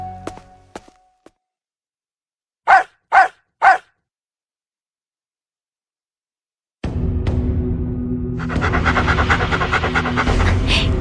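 A dog panting and barking: a few soft sounds, then three sharp close barks in quick succession, a pause of silence, and a dense mix of background sound and music that swells and continues to the end.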